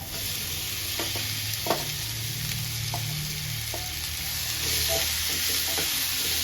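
Ivy gourd stir-fries in a pan, a steady close sizzle punctuated by sharp scraping taps of the spatula, loudening slightly toward the end.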